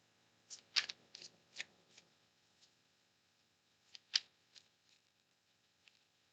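Playing cards being shuffled close up, quiet crisp riffling bursts in two short clusters separated by a pause, with no talk.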